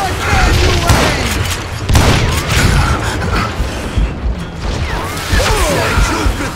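Explosions and heavy crashes in the western shooter game Call of Juarez: Gunslinger, loud booming blasts with debris and gunfire continuing throughout, while a voice talks over the noise.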